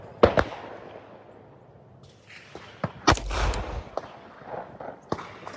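Pistol shots at an outdoor shooting range: a pair of loud, sharp cracks at the start and another heavy bang midway, with smaller impacts and clatter between, echoing in open air.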